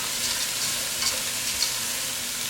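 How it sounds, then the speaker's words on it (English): Riced cauliflower being stirred in a hot pan, a steady soft sizzle with faint scraping throughout, close and fairly quiet, with no talking. "Let me stir it up."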